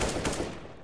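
A burst of gunfire in the shooter game CS:GO striking the player, a dense rattling volley that fades out within a second, with no talk over it.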